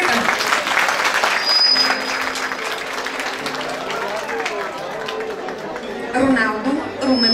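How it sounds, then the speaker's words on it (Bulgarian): A wedding crowd applauds the bride during a civil marriage ceremony, steady clapping from many guests lasting several seconds with voices and chatter mixed in. "Аплодисменти за Булката!"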